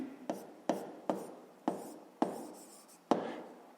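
Pen strokes scratch across paper as a math solution is written down, six separate sharp scratches spaced evenly, each fading quickly, quiet and close with no talking.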